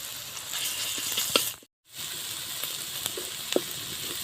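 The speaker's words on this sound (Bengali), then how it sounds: "তেল দিয়ে দেবো মাঝে রসুন বাটা দিয়ে দিচ্ছি" Loud, continuous sizzling of garlic paste frying in hot oil, with a brief cut to silence midway and a few stirring clicks.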